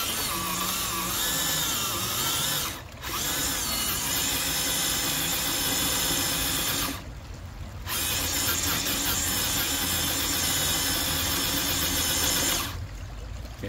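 A Yikong YK4107 Nissan Patrol RC crawler's electric motor whines steadily under throttle on a trail. It runs in long stretches that break off twice into short pauses before starting again.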